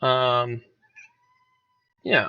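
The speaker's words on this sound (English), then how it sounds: "that's my cat." A pet cat gives a clear, close meow, then a short pause with faint tones before a second brief meow begins; a voice speaks at the same time.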